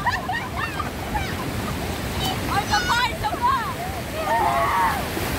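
Surf breaks on a wild sandy beach at Buguey, Cagayan, a steady broad roar of waves and wind washing through the whole stretch while people shout and chatter over it.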